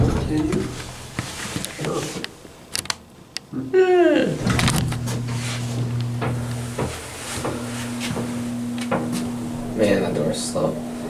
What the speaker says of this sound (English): That door operator is so loud.